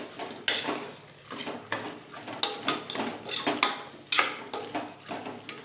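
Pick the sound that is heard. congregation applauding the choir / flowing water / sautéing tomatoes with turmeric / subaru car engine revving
sautéing tomatoes with turmeric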